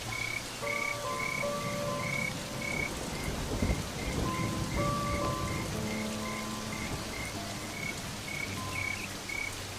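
Steady heavy rain hisses throughout, with frogs croaking in repeated calls and a low rumble of thunder rolling underneath.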